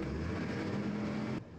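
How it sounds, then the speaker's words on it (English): Military trucks rumble along in the John Tiller Campaign Series East Front wargame, a steady low engine drone that cuts off abruptly near the end. "Yeah, he's moving those trucks now."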